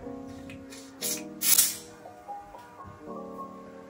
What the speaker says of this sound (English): Spraying the edges here.